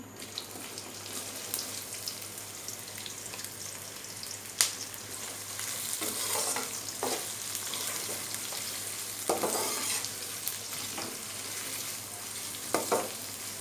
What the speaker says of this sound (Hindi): तीन लार्ज साइज़ के मैंने प्याज लिए हैं, वो इसमें डाल देंगे इसी ऑयल में।